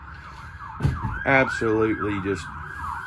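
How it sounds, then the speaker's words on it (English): A wailing emergency siren from a passing fire truck or ambulance sweeps up and down at a distance, heard from inside a 2018 Fleetwood Bounder 33C motorhome, while someone talks briefly over it. "fire truck or an ambulance going by."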